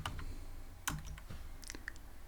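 Python code is typed on a computer keyboard with a few quiet, close key clicks. One sharper keystroke stands out, with a small burst of taps after it, over a low background hum.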